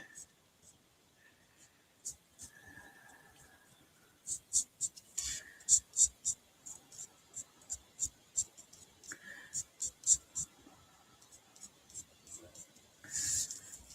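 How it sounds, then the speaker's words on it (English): A marker scratching over a paper die-cut stem, with soft rhythmic strokes that quicken into a dense run of short, close scribbles, alone, without talk. "going to just color this stem part of this die cut."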